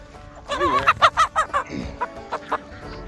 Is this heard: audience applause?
no